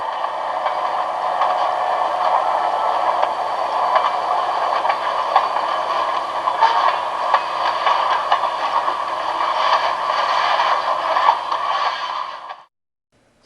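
An SW8 diesel switcher locomotive works the Bethlehem hump, giving a steady loud diesel drone with metallic scraping and clattering of railcars, then cutting off abruptly near the end.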